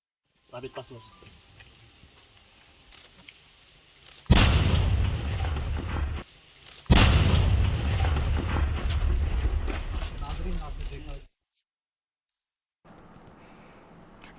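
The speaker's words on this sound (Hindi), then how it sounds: "इस आईईडी में विस्फोट कर इसे डिफ्यूज कर दिया गया।" Two heavy explosive booms from a controlled detonation of an IED in Jammu and Kashmir go off a few seconds apart, each rolling into a long rumble before fading. Faint sounds come earlier.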